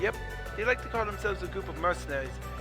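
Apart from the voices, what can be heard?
No distinct noise like a dog, phone or traffic.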